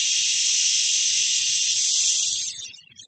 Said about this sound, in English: This sound is said to be a liver cleansing sound.